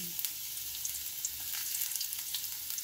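Ginger dropped into hot oil in a pan, a steady close crackling sizzle with scattered sharp pops and faint stirring, fairly quiet overall and without speech.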